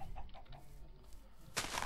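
A faint chicken clucks in the Minecraft video game, a few soft repeated calls in a quiet, hissy scene, ending with a brighter burst of noise.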